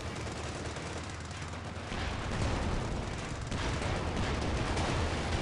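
Dense, rumbling gunfire and artillery blasts from a Company of Heroes 2 battle roar continuously and loudly as an unbroken wall of noise, with no voices.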